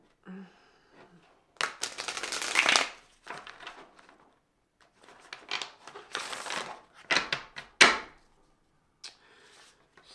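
A Light Seers tarot deck being shuffled by hand, close up: several bursts of crisp riffling and card slaps separated by short pauses, with no talking.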